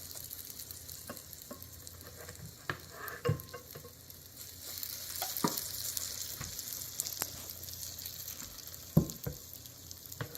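Waffle batter cooking on a waffle iron. A low, steady sizzle and hiss is scattered with faint ticks and small pops, with a slight swell midway.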